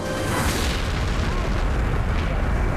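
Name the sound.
chemical plant explosion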